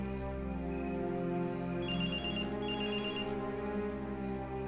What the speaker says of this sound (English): we can hear the phone ringing in the bathroom